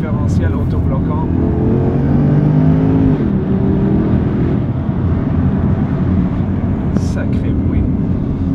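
A sports car engine revs loudly up a damp mountain pass, with its pitch climbing and then settling into a steady roar close by, while people talk over it.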